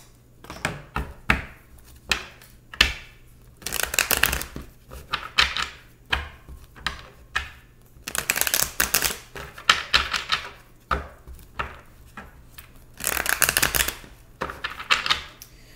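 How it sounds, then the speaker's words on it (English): Tarot cards are shuffled by hand in bursts of rapid, close, papery riffling and clicking, with short pauses and a few soft taps between the shuffles. "so let's pull the tarot"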